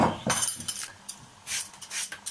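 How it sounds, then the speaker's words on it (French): Carrots being peeled with a vegetable peeler, a string of brisk scraping strokes, short rasping bursts with small clinks between them, close and moderately loud, with no speech. "Première étape, on épluche les carottes"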